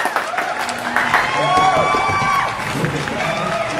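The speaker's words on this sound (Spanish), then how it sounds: "Con un gran aplauso recibiremos a Juan Pablo Arena." Studio audience applauding and cheering to welcome a guest onto a family talk show, a steady crowd roar with clapping throughout, mixed with shouts and overlapping voices.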